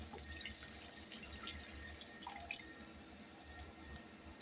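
Water is poured slowly into a pan of cooked-down masala for a Bengali doi katla fish dish, giving faint, close splashing and trickling with a few small sharper drips, no talk.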